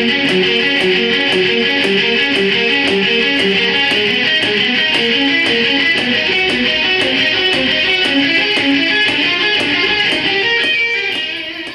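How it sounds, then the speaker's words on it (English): A two-string electric guitar arpeggio played slowly in triplets, a sustained, bright, continuous run of evenly picked notes, loud and close, fading slightly at the end with no talking. "So slow as a triplet in time sounds like this."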